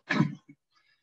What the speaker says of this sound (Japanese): 咳払いします。